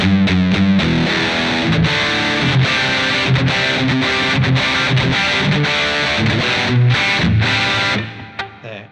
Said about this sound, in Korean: 메사부기 앰프를 기반으로 해서 만든 톰입니다.